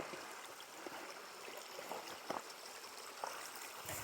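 Creek water running over rocks in a forest, a steady soft broadband wash with faint trickles and small splashes, fairly quiet and continuous, with no talking.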